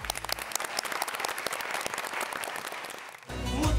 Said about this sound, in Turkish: Şefime bir alkış